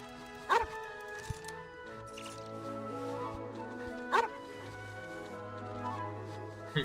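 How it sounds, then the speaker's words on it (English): Dogs bark in loud, sharp bursts, a few spaced yelps and barks standing out over a steady musical background from a game livestream. "Those dogs are really going at it."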